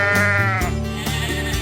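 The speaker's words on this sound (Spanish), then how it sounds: "¿Quién es? ¡La oveja!" A sheep gives a loud, wavering bleat close up, followed by a few shorter bleats in quick succession.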